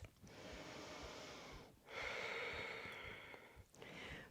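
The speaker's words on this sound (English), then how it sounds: "the sound of the Ujjayi breathing" Ujjayi breathing during a twisting vinyasa yoga session: slow, close, soft oceanic breaths, one long breath and then another, each with a smooth hiss and brief pauses between.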